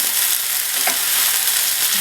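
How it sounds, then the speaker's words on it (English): Mushrooms sauté undisturbed in a single layer of hot oil in a pan, giving a steady, close, bright crackling sizzle that holds constant throughout with no talking. "Place the mushrooms in one layer and saute undisturbed for about 2 minutes."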